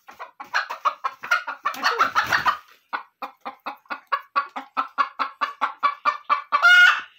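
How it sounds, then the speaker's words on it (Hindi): A hen clucks close by in a steady rhythmic series, ending in a louder squawk. "ये मुर्गी को देखें, ये बैठी हुई थी।"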